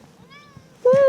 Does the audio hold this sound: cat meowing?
yes